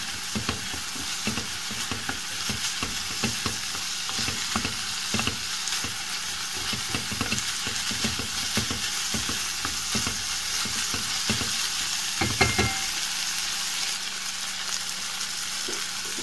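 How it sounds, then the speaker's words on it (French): Ground ginger, turmeric, paprika and salt are stirred in a hot pan, a steady sizzle broken by repeated scraping strokes of the spoon, close and fairly loud throughout. "On mélange le tout."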